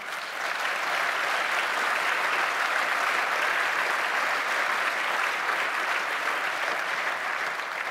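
A crowd at a political speech breaks into long, steady applause, a thick wash of clapping that holds at an even level throughout with no voices over it.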